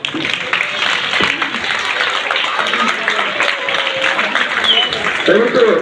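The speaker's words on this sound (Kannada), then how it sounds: "ದಯವಿಟ್ಟು ಎಲ್ಲರೂ ಜೋರಾಗಿ ಚಪ್ಪಾಳೆಯನ್ನು ಹೊಡೆಯುವ ಮುಖಾಂತರ ಆ ವಿದ್ಯಾರ್ಥಿಯ ಕಲೆಗೆ, ಆ ವಿದ್ಯಾರ್ಥಿಯ ವಯಸ್ಸಿಗೆ ಪ್ರಶಂಸೆ ನೀಡಬೇಕು" Audience clapping for a student's performance at a school event, a dense steady patter of many hands filling the whole stretch, with crowd noise mixed in.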